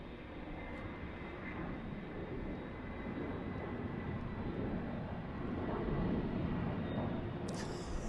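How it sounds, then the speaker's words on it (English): An Airbus A330 jet airliner departing Sydney Airport, a steady broad engine roar heard from a distance that builds slightly toward the end, with no talk. "One more A330 departure, yeah."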